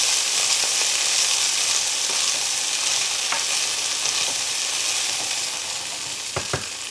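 Garlic and drained chickpeas fry in a hot pan with a steady, bright sizzle throughout, broken by a few scrapes and clicks of stirring near the end.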